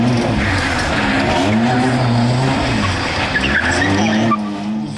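At a driving competition in Lviv, cars spin sideways from 90 to 560 degrees, giving a loud, continuous tire squeal with revving engine tones that rise and fall over five seconds.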